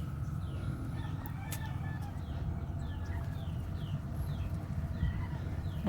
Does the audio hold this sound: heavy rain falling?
no